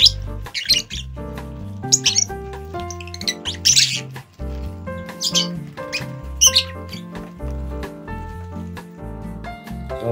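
A pet bird gives loud, repeated squawks and chirps close by in bursts, over a steady tonal backdrop.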